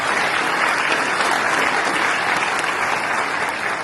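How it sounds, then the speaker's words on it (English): An audience at a Sugar Land 95 historical marker dedication gives a dense, steady round of applause that carries at an even level for the whole stretch and tapers slightly at the end. "So please give yourselves a round of applause."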